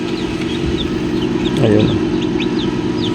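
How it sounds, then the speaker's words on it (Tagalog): Newly hatched chicks peep in quick, high, scattered chirps inside an egg incubator over a constant low mechanical hum, and someone speaks briefly midway. "may mga sisiyo na nga oh. May nagpa-incubate dito sa akin ng manok."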